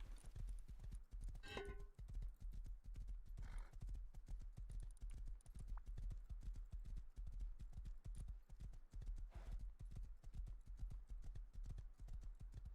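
A horse gallops in a video game, with rapid, rhythmic clip-clop hoofbeats continuing steadily throughout at a moderate level, with no voices over them.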